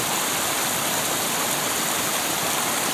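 Clean, cold river water streams steadily over rocks outdoors, a continuous broadband rush with no pauses or talk.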